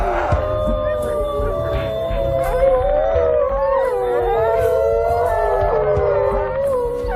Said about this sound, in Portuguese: Os uivos os ajudam a se juntarem.